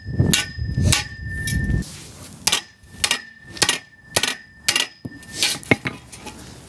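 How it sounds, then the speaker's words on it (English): Repeated hammer blows on metal while a cross brace is made in a workshop, about seven sharp ringing clangs at irregular intervals, close and loud, with a high metallic ring lingering after some strikes. "A hammer."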